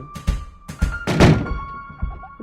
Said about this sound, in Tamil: டோர் மூடிட்டாங்க